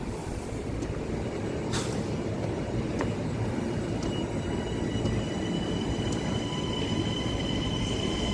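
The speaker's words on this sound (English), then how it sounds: "I think that's the Port Jefferson train." A passenger train at Hicksville rumbles steadily, a dense low roar with faint metallic clicks and squeaks from the wheels on the rails.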